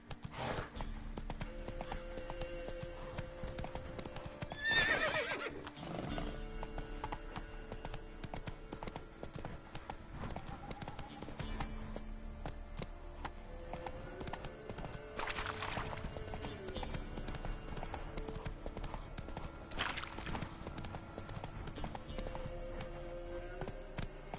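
Steady clip-clop of the horse Roach's hooves in The Witcher 3 runs throughout at a moderate pace, with a brief snort or whinny near the start and occasional game sounds layered over it.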